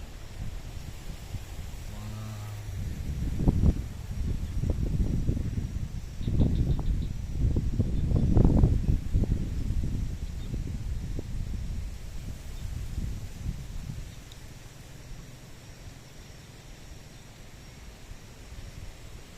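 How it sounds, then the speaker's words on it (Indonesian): Strong wind gusting outdoors, a broad steady rush with heavy microphone buffeting that swells through the middle stretch and eases toward the end, loud and close with no voices. "Dilihat anginnya kencang sekali ya guys."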